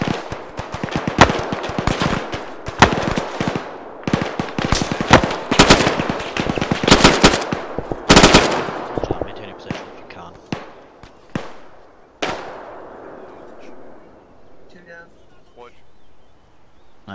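Gunfire during a firefight at a road checkpoint: loud, close bursts of rapid shots and single cracks crowd the first half, then thin out to scattered distant reports as shouted voices carry on in between.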